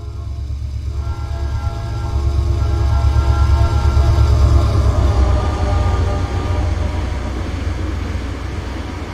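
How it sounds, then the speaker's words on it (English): A YN2 locomotive in a Roblox railway game rolls past along the tracks, a continuous heavy rumble with a tonal hum that swells toward the middle and slowly eases off. "This one shows a YN2 locomotive passing along these tracks."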